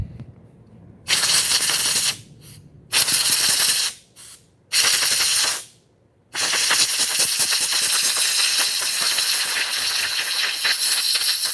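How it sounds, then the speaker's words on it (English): Compressed air blasting out of a moped part during morning repair work comes as loud hissing bursts: three short blasts with brief gaps, then one long sustained blow to the end. "I'm going to mute this so I don't blast you guys with compressed air."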